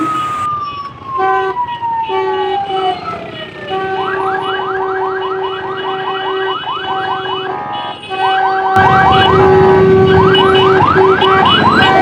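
An ambulance siren on the road wails steadily with repeating rising and falling sweeps, loud and close throughout, with a sudden jump in loudness near the end as it sounds nearer.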